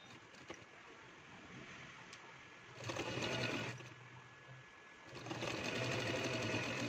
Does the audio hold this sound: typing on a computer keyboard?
no